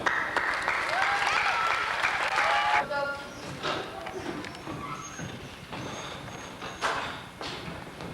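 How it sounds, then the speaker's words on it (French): An audience applauds drama performers at a school theatre festival of a French lycée, a burst of steady clapping for about three seconds, then quieter noise with light thumps and scattered sounds. "On les applaudit encore une fois."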